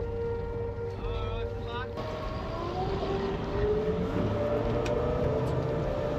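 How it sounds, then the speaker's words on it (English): Steady, rumbling engine drone with water noise from a swordfishing boat running close by, continuous throughout with a brief higher whine early on. "Nice boat, that. That's lovely."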